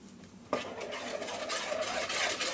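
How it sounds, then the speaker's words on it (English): A wooden spoon stirs a gluten-free apple pie mixture in a bowl, making a sudden scrape and then continuous soft, clattering, mushy churning. "I'm using a wooden spoon, just grab it in and mixing it in at a time"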